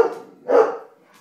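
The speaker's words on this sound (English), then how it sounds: "Oh, big barks." A dog barks in a home, a short yip followed by one louder, fuller bark, close and alone without any talking.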